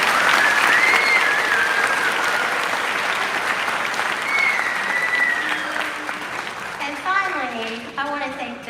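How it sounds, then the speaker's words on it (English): An audience at a Charleston Southern University summer music camp performance gives a loud, sustained round of applause that slowly fades, with voices talking over its tail end. "Let's give them one more round of applause."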